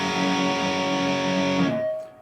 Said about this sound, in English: the version of the chord that I'm playing is 4 notes, so it's leaving 2 notes out.